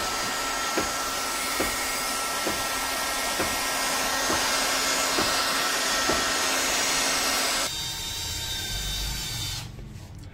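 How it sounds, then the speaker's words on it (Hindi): A hot air gun dries moisture from an inverter circuit board, giving a loud steady blowing whoosh with faint regular ticks, then dropping in pitch and cutting off near the end, with no talking. "अब हॉट गन से हम इसको इसकी नमी वगैरह सुखा देंगे"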